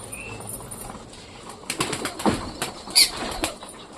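A caged pigeon flaps its wings in several sharp, fluttering bursts that grow busier midway, close up over faint background rustle, with a soft metallic rattle and no talking.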